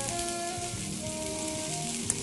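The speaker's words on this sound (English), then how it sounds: "I'll put it back into the pan in which I'll toss the veggies, and then I'll just stir fry this for about a minute" Vegetables stir-fried in oil in a pan give a steady, soft sizzle underneath faint background tones, with no voices.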